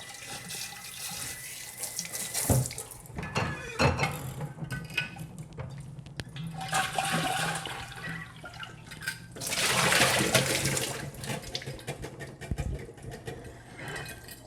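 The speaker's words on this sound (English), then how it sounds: "I'm using pretty hot water for all of my rinsing and cleaning, just to kill any unnecessary bacteria." Hot tap water runs and splashes into a sink while kefir grains are rinsed, with uneven gushes, a few sharp knocks and brief quieter gaps, heard close and fairly soft, with no talking.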